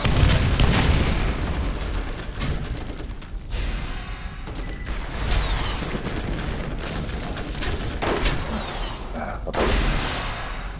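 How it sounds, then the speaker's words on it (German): Grenade blast in the shooter game Borderlands, one of several loud booms and bursts of gunfire amid continuous combat noise, with brief quieter gaps and faint talk in the background. "Oh oh, Granate explodiert."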